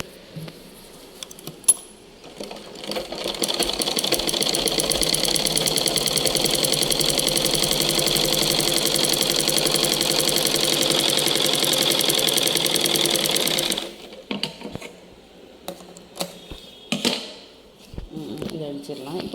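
A sewing machine stitches cloth in one steady, loud run of about eleven seconds, a fast even mechanical rattle, followed by scattered clicks and handling noises as the fabric is adjusted.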